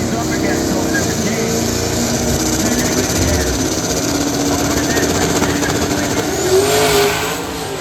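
Drag race cars waiting at the starting line of a Snowbird Nationals round, their engines idling with a rough, rumbling drone and a slight rev near the end, over general track noise.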